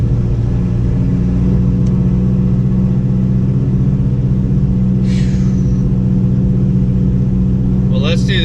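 A 2015 SS Camaro rolls through a neighborhood, its steady low engine rumble droning continuously close by, with a couple of brief higher-pitched sounds breaking in near the middle and end.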